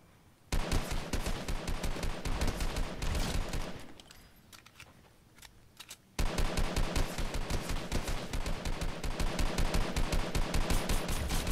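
Rapid, loud repeated gunfire from Fortnite Chapter 2 Season 8 combat, a steady burst pattern that drops to a quieter lull midway before the shooting resumes just as hard.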